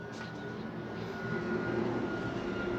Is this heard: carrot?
no